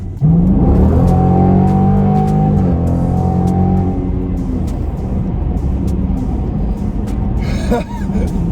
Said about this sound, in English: The exhaust is fairly cold, and this thing sounds brutal.